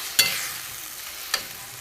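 Milk for a duck egg korma simmers in a pan with a soft, steady hiss, broken by two light clicks, close and fairly quiet with no speech.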